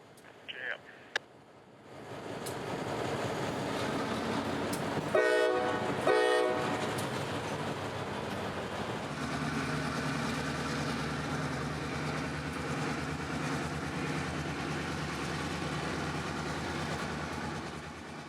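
A freight train rolling through town on the S-Line, a loud horn sounding twice, then a steady rumble of passing cars with faint clicking; brief people's voices are heard near the start.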